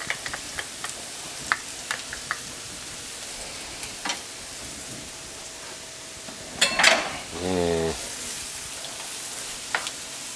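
Garlic sizzles steadily in a hot pan for pork schnitzel pasta, a soft constant frying hiss broken by small clicks of utensils and a brief louder scrape of stirring partway through.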